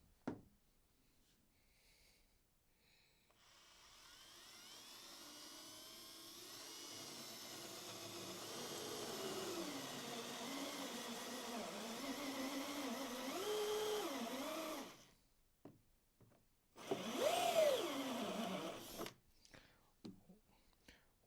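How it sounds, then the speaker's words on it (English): A drill drives a 1 3/4 inch hole saw into a portable toilet's plastic housing, a whirring grind that builds over several seconds, wavers in pitch, stops, then bursts again briefly before fading. "To drill these holes, we're going to use a 1 3/4 inch hole saw."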